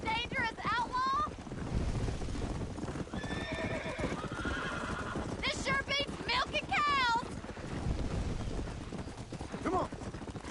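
Hooves of a horse gallop in Red Dead Redemption, with rapid clip-clop under wind, punctuated by horse whinnies and shouting voices over the ride.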